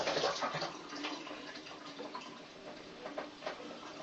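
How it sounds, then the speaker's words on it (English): Water runs steadily from a newly fitted outside garden tap, a faint, continuous hiss with small splashing flickers and no voices. "I should be able to turn the water back on."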